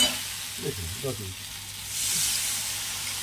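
Koi fish fry hard in oil, a steady sizzling hiss that grows a little louder toward the end, with a brief voice murmuring underneath early on.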